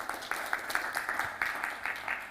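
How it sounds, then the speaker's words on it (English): Attendees at a summer school on optics and lasers in East Africa clap for a speaker in a short, fairly regular burst of close claps. "Let us clap for the speaker."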